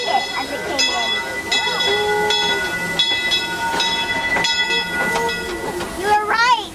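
Disneyland Railroad steam train pulling in, a steady rumble with clanking and hissing, several sharp whistle-like tones and brief bursts, close and continuous, with voices faintly audible beneath.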